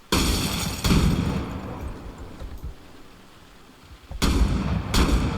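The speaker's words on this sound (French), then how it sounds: "le mec a un fusil à pompe" Shotgun blasts from an enemy in a first-person video game, heavy booming shots at the start, near one second, and two more around four and five seconds, with a rumbling ambience between them.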